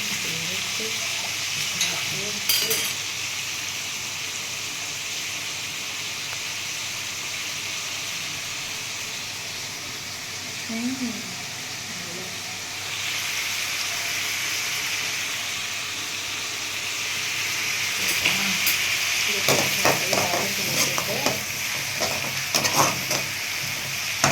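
Green chillies for chicken curry sizzle and hiss in hot oil for a long stretch, loud and steady, with scraping stirring strokes and clatter growing busier toward the end and occasional brief talk underneath.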